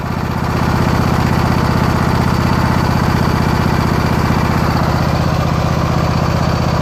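A Husqvarna 2448T riding lawn tractor with a 24 hp Briggs & Stratton Intek engine runs steadily, a loud, even, throbbing engine drone held close up for the whole stretch with no talking.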